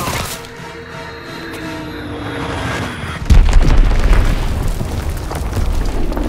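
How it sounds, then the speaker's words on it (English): A bomb blast in the World War II shooter game Call of Duty: WWII, a sudden heavy boom about halfway through that follows a rising rumble and leaves a loud, low roar of debris and rumble afterward. "Enemy bomb incoming! Get to cover!"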